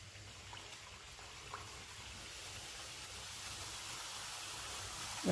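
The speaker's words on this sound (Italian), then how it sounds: "L'olio è a temperatura e noi iniziamo a friggere." Frappe carnival pastry strips frying in peanut oil heated to 170 degrees, a steady soft hiss of bubbling oil that gradually grows slightly louder, with no talking.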